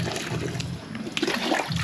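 Water splashes and sloshes as it pours into a farm animal feed mix of rice bran, commercial feeds, cassava and corn, with a steady close-up trickle throughout.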